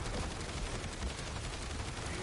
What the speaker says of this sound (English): I can only imagine how many rounds I've fired so far.